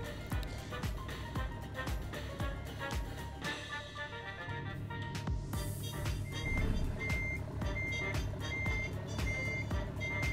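Reversing beeps from a truck backing up in American Truck Simulator, a steady repeating electronic beep pattern over a constant engine drone, loud and close, with no talking.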